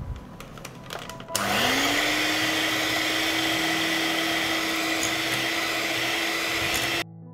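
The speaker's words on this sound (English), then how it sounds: "I will beat the ingredients with a mixer." An electric mixer beating cake batter switches on after a short pause and holds a loud, steady whirring whine for about six seconds before cutting off.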